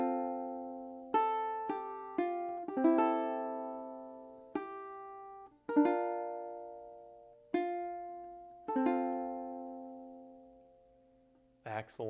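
The closing phrase of Amazing Grace rings out on a ukulele, with about a dozen clear plucked notes and strums spaced unevenly and left to ring and fade, heard alone and close.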